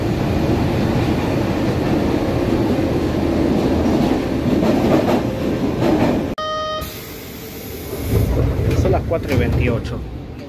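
A Buenos Aires Line E subway train rumbles and clatters loudly on the rails. A sharp chime-like tone cuts in, the noise briefly drops, then rolling clatter resumes. A voice talks faintly underneath.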